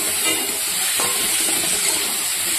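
Cubed potatoes and pointed gourd sautéing in a hot pan with ground chilli and cumin paste, giving a loud, steady, close sizzle with faint stirring scrapes and no talking.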